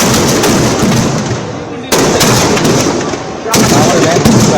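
Rapid bursts of crackling firecrackers at a Dussehra Ravana effigy burning fill the air, loud and close, in dense volleys with abrupt sharp onsets and a roaring crowd-like wash underneath.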